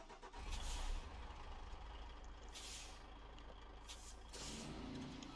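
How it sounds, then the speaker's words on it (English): A truck's air brake handbrake releases in a truck-driving video game: a loud hiss burst at the start, then further sharp pneumatic hisses over a steady idling engine rumble. "Handbrake release."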